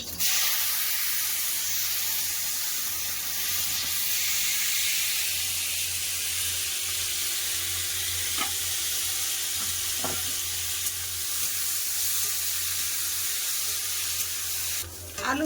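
Potato pieces frying in hot mustard oil in a kadai, a loud, steady sizzle that holds for the whole stretch, with a couple of faint clicks near the end.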